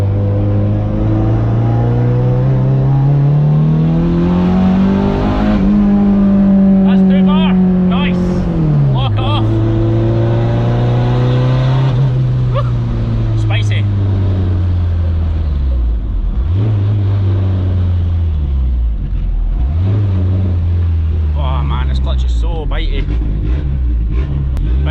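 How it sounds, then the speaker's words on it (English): A boosted car with a boost leak fixed, accelerating hard through a second-gear test pull: loud, close engine drone rising in pitch, dropping and climbing again under boost, with turbo whooshes and faint chatter near the end. "Let's try this again. Second gear pull."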